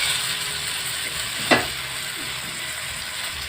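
Raw banana slices fry in hot oil for a crunchy masala banana fry, giving a steady, close sizzle with one brief sharp click partway through; no one speaks.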